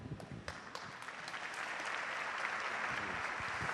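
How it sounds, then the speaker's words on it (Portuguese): An audience at a church congress breaks into applause, starting with scattered claps that swell within a second or two into steady, full clapping from a large crowd in a hall. "Quando a gente dá essa salva de palmas em agradecimento à prontidão que esses missionários têm"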